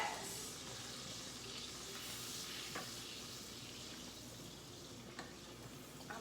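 A shrimp scampi sauce of butter and white wine sizzles in a pan, giving a quiet, steady frying hiss with a few faint clicks of stirring, close by and with no voices.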